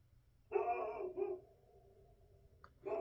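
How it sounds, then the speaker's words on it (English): A dog outside gives a couple of short barks, faint and distant, followed by quiet and another bark starting at the end. "that's my dog barking"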